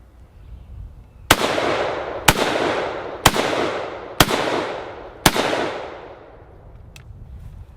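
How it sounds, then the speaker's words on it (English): Five sharp, loud rifle shots from a German G41 crack out about one second apart, each followed by a long echoing decay, with a faint click after the last. "just see like how fast the gun will sort of let me shoot"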